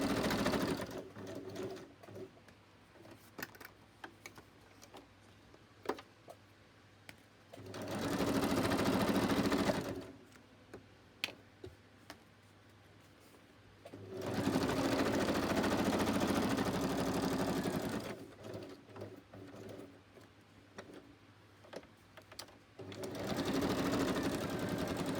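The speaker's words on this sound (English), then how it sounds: "I'm going to stitch around, and I will back stitch just to be sure." A sewing machine stitches and back-stitches fabric in three sustained whirring runs, separated by quiet pauses with faint handling noises, close and steady.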